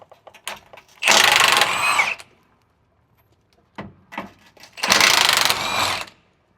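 Tool loosening 21mm transmission crossmember nuts under a 4WD Ford F-350 with a ZF6 six-speed manual, two loud sustained whirring bursts of about a second each, separated by light clicks and handling noise.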